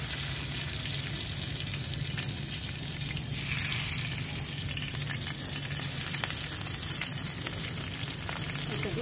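Cabbage frying in mustard oil on a tawa, a dense continuous sizzle and crackle that stays loud and close throughout, with no voices.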